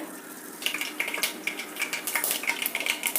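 Mustard seeds drop into hot oil in a cooker pan, giving a busy run of small crackling pops and sizzles that grows denser after the first moment, close and steady with no talking.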